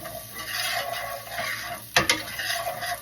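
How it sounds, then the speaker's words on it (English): Garlic sizzling in a pan while being stirred for an Alfredo sauce, a close, continuous frying hiss with a brief sharp scrape of the utensil against the pan. "let's put the garlic in. This, you just stir it around until you start to smell the garlic."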